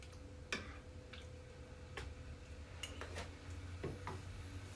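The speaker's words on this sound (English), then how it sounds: "I'm gonna go ahead and give it a good stir here." A spoon stirs an Americano in a cup, giving a few light, irregular clinks and ticks against the ceramic over a low steady hum, fairly close and with no talk.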